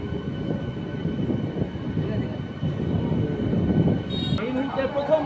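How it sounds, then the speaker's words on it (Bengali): A suburban local train on the Krishnanagar–Amghata line rolls into Amghata railway station, a steady rumble of wheels and carriages that swells slightly near the end, with a faint whistle-like tone and crowd noise in the background. "এই মুহূর্তে প্রথমবার আমঘাটা স্টেশনে ঢুকছে ট্রেন।"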